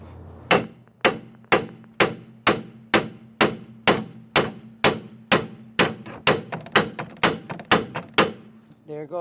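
A hammer strikes a car steering knuckle again and again to free a control arm, giving about twenty sharp, evenly spaced metallic blows, close and loud.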